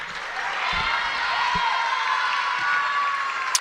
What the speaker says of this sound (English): big appreciation from the crowd